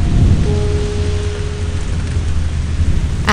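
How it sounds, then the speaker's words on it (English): Rain and thunderstorm effect: dense, loud rain hiss fills the whole stretch over a deep rolling rumble of thunder, with a faint tonal hum entering partway through, and no voices. "The sound of the rain was everywhere"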